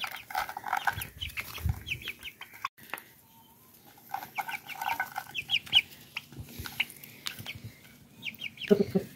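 Hens and chicks in a farmyard clucking and peeping in short bursts, fairly close, with soft chirps scattered between louder clucks.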